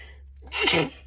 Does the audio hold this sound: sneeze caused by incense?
yes